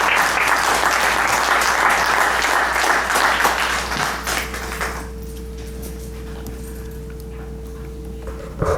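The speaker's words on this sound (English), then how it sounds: "Please give him a round of applause" Audience applause welcoming a speaker to the stage at a community event, loud and dense clapping for about five seconds before fading out, leaving a quiet room with a low steady hum.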